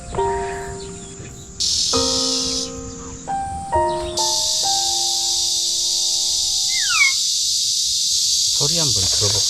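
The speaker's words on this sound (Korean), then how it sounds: "근데 매미 소리 때문에 잘 안 들려." A loud, steady high-pitched buzz of cicadas fills the scene, starting in bursts and then droning continuously beneath sustained tones from a BMW car speaker and a brief voice.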